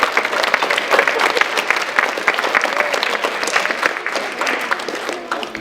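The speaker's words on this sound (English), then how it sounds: "So a big round of applause for" A school hall full of pupils giving a loud round of applause, dense rapid clapping sustained for several seconds and close, tapering slightly at the end.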